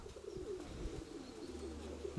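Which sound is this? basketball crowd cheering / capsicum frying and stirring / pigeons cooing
pigeons cooing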